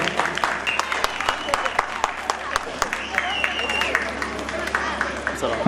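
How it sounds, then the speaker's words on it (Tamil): A crowd claps at a Sri Santhanamariamman temple festival ceremony in Veerapandiyapuram, loose scattered clapping over crowd murmur and a low hum, with distinct sharp claps standing out. "கைத்தட்டி உற்சாகப்படுத்துங்க"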